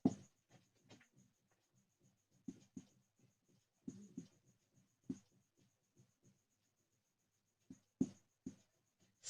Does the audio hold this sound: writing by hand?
yes